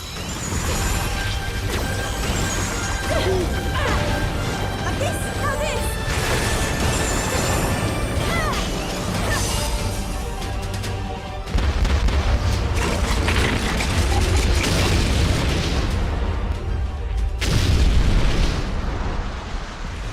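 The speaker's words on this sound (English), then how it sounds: "Preparations are complete. Fire the cannons at will." Cannons fire and explode in the video game Hyrule Warriors: Age of Calamity, a loud continuous barrage of booming blasts and crashing impacts layered over rumbling battle noise and music-like tones.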